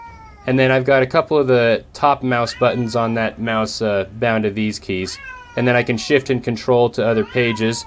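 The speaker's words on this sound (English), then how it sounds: "He's part Bengal, that's why he's so noisy. Bengals are noisy" A part-Bengal cat meows loudly and repeatedly, drawn-out wailing cries in quick succession, mixed with a person talking nearby.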